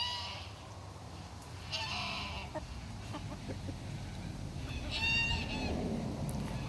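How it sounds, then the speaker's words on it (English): Roosters crowing on a farm on a cool day, several drawn-out calls rising at a distance over steady low outdoor rumble, the loudest crow coming near the end. "The roosters think something is going on."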